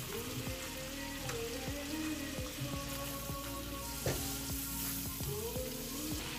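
Chopped carrots sizzle quietly in a pan while a white sauce pasta is being made. A soft, steady frying hiss runs throughout, with faint repeated ticks and crackles.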